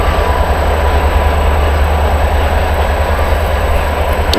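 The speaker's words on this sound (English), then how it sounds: "Train is freaking rolling." A train rolls past nearby as a steady, dense rumble and roar that stays loud and unbroken throughout, with no voices.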